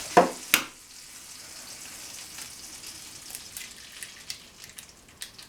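An egg frying and foaming on a cookie sheet over a Sterno can gives off a soft, steady crackling sizzle, quiet and close, after two sharp knocks at the start.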